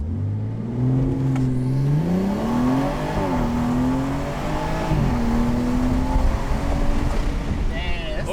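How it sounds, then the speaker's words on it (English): A BMW 340i with an MHD tune launching hard, engine revving up through rising pitch sweeps and gear changes, loud and close with wind and road roar, a voice briefly heard at the end. "we're gonna go ahead and do a little launch test in this thing"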